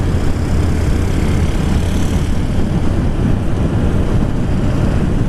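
A 2016 Suzuki Bandit motorcycle engine running, a loud, steady, close low rumble that stays smooth and even throughout.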